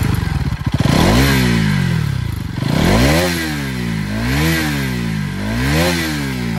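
A Bajaj Pulsar NS200 BS6 motorcycle engine cranks and catches, then idles and is blipped in repeated rising and falling revs with a heavy, bassy exhaust note, close and loud, with no talk.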